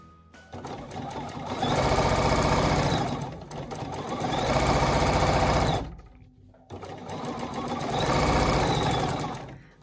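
A sewing machine runs fast and loud while free-motion quilting a drape pattern, stitching in three long bursts of rapid, even pounding separated by short pauses.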